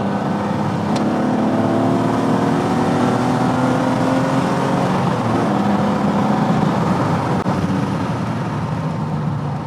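A TVR T350C's engine revs hard and shifts, a loud, continuous mechanical roar with rising and falling tones carried through the whole stretch, no voices present.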